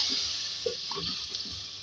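Water is poured into a pan of spiced ridge gourd curry with turmeric-coated masala, giving a steady close hiss of splashing liquid with faint clinks.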